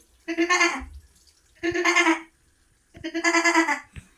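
A voice imitates a goat bleating, three separate drawn-out quavering bleats spaced about a second apart, close and clear with no other talk.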